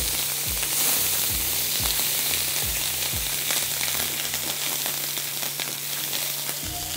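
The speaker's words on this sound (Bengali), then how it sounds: "ও আদা বাটা, একটু নাড়াচাড়া করে, সামান্য নাড়াচাড়া করে" Ginger paste with garlic paste fries in oil in a pan for chitol fish muitha. A loud, steady sizzle runs throughout, with a regular thud and scrape as it is stirred and no one speaks.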